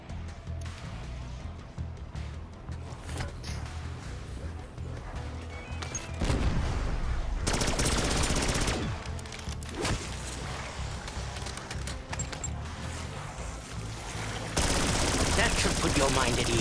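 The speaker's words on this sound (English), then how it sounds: "Throwing incendiary." Dense bursts of rapid video game gunfire and booming blasts as an incendiary grenade is thrown, loud and continuous with heavier surges of fire toward the middle and end.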